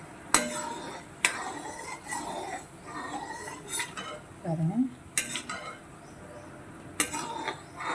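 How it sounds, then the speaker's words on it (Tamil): Thiruvathirai kali with ghee stirred in a pot: a spoon scrapes and clinks against the metal in irregular strokes, with sharp knocks at intervals and no voice. "இதை அப்படியே கிண்டிட்டு கொஞ்சம் நேரம் கிண்டி விட வேண்டியதான்"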